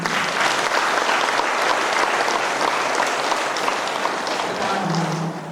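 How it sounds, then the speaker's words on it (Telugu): A crowd at a fourth-anniversary celebration at PSSM Navanathapuram, Armoor, claps loudly and steadily in applause for the pyramid, a dense, even wash of hand claps that holds throughout. "మన పిరమిడ్కి గట్టిగా చప్పట్లు పెట్టుకుంటాం."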